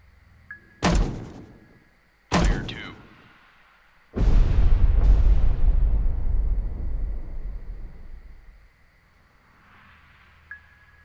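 Naval guns aboard a destroyer in Destroyer: The U-Boat Hunter fire twice in quick succession, each a sharp loud thump, followed by a long heavy rumbling explosion that slowly fades.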